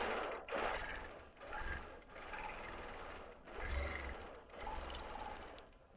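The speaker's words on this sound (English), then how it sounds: "I would do my little lock stitches like so, and I would go off into my quilting a few inches." A quilting machine sews a few short lock stitches and then moves on, a quiet close mechanical whir that comes in several bursts with short gaps between them.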